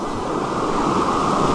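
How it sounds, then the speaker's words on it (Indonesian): A swift river current rushes with a steady, broad roar, loud and continuous across the short moment. "Sungainya benar-benar sangat deras."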